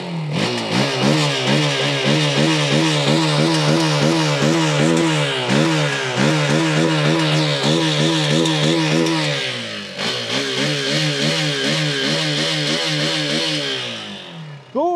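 A Hero Xpulse 200 4V Rally Edition motorcycle engine is revved hard with the throttle, producing repeated loud rising and falling blips. The rough idle carries between surges, and a short dip comes near the end, with no talking.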